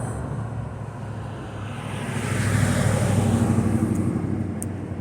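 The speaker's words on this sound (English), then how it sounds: "A little bit windy today." Wind gusts outdoors at a gathering, a steady broad rush that swells louder midway and stays loud to the end, with no talking.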